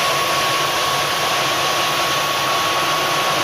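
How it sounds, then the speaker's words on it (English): Tornado GR1 jet engines spin up in the MSFS 2024 flight simulator, a loud, steady broadband roar with a constant whine running throughout, no voices. "There's a little gearbox blip missing out of that, but the startup itself sounds pretty good."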